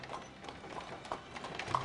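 Horse hooves clip-clop in a steady, moderately paced rhythm, like a horse-drawn carriage of the 1880s on the road, heard fairly faintly against a soft background wash with no talking.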